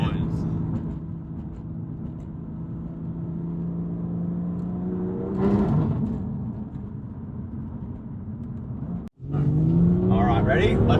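BMW M2 Competition twin-turbo engine on a stock intake, its drone rising in pitch under acceleration, dropping briefly at a shift, then climbing again, heard from inside the car with voices talking over it.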